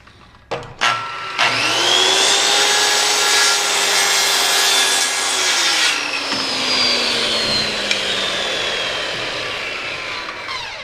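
A power saw cuts a square cut through lumber for the framing of a house, a loud close whine spinning up and then grinding steadily through the wood for several seconds before winding down.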